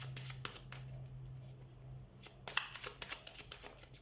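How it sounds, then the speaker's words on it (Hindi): Tarot cards shuffled by hand during a monthly reading, a steady series of soft riffling flutters and taps close by, growing busier and louder in the second half, with a low steady hum underneath. "Okay, so let's shuffle your cards Aries."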